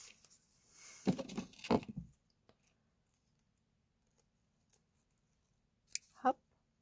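Scissors snipping thread after a knot is tied: a rustling handling burst, then a few faint isolated ticks, and a couple of crisp close cuts near the end, with no talking.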